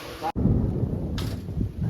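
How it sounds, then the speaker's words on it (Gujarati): Heavy monsoon rain pours down with a deep rumble of thunder in a Gujarati village courtyard, a loud, dense roar that cuts out for a split second, then surges back and keeps going. "કડાકા બડાકા સાથે ગાઈસ કેવો વરસાદ આવે છે"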